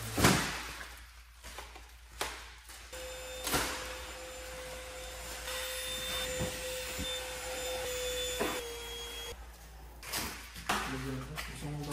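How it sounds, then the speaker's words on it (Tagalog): Vacuum cleaner running while cleaning a car interior, a steady whine under a series of clunks and bumps from the hose and car parts. "tuloy natin yung pagba-vacuum"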